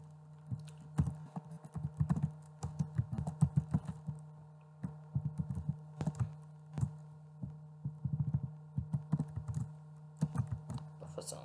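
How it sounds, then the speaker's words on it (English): A computer keyboard is typed on in quick irregular clusters of close, crisp key clicks, with short pauses between words and a steady low hum underneath. "Then click in the name box, type buffer zones."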